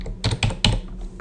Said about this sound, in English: I'm just gonna type now.